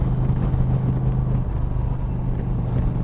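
A 2020 Indian Challenger motorcycle with a fairing riding in standard mode, giving a steady, loud low engine drone mixed with road and wind rush, continuous throughout with no talking.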